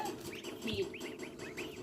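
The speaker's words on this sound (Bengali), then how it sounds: "রাজহাঁসের বাচ্চা আরো রয়েছে এখানে।" Gosling chicks chirp in quick, faint peeps, a string of short high calls repeating close by against a quiet rural background.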